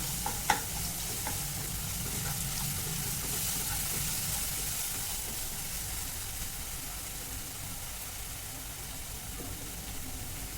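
Ginger, garlic and green chili paste frying in hot oil with a steady, close sizzle and hiss, a few sharp clicks early on as it is stirred, and no talking.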